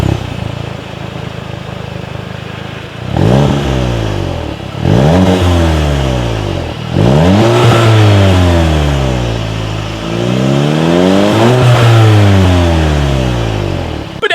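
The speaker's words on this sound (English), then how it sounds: "as always, here is that exhaust clip" A 2017 Volkswagen Golf GTI with a dual exhaust, idling at first and then blipped through four or five loud rising and falling revs, recorded close behind the car with no talking.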